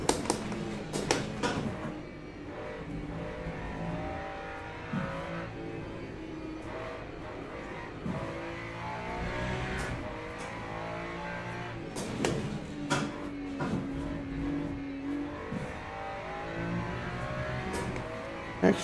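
A Ferrari race car in the Le Mans Ultimate sim at Spa, its engine revving and shifting steadily throughout with repeated sharp rises in pitch, loud and close, no talking.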